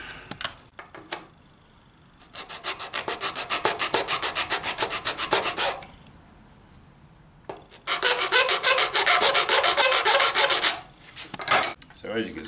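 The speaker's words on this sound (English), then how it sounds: "just go through and just remove a little bit of excess plastic and that should be about it" A hand file rasps off excess plastic from a tachometer housing, with two long runs of rapid, rhythmic back-and-forth strokes, close and loud, with short quiet gaps and a few brief scrapes.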